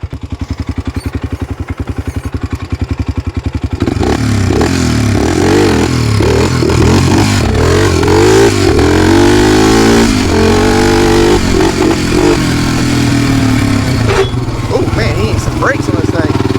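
An ATV revs hard while being ridden, its engine loud and close with a steady throbbing drone that swells and rises in pitch through repeated throttle surges.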